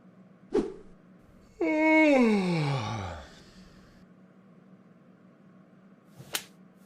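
A sharp slap cracks out to wake a sleeping cartoon character, followed by a long descending yelp-like sound effect and another brief smack near the end.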